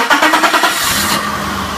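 A BMW E32 7-Series cranks and fires up nearby, with rapid rhythmic starter pulses settling into a steady idle rumble.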